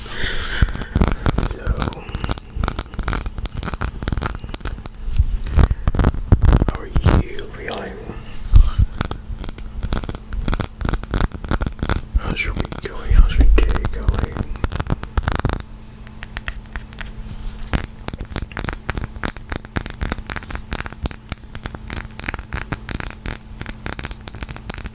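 Small glass objects handled for ASMR, giving close, crisp clinks, taps and scratchy rattles in uneven bursts, with soft whispering and quiet talk running alongside.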